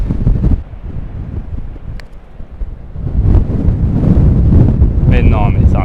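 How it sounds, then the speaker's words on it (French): Strong storm wind on a golf course buffets the microphone with heavy, gusting low roars that swell and ease, loud and close throughout, while someone speaks intermittently under the blasts. "c'est un délire le vent"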